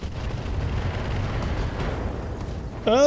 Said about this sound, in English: We got a good explosion on that one.